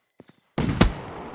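In the video game Fireworks Mania, a couple of faint soft taps, then a sudden burst of noise topped by one sharp firework bang that trails off into a crackling hiss.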